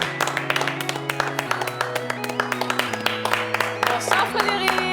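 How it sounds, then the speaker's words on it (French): A French television studio audience applauds steadily, a dense stream of hand claps running unbroken throughout, with sustained music tones playing underneath. "On va l'applaudir, tiens, allez."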